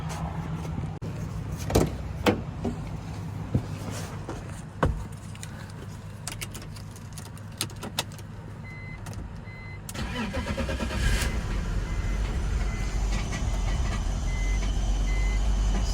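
A 2000 BMW 328Ci engine cranks with sharp clicks and sputters, then catches and settles into a steady, fairly loud idle with no talking.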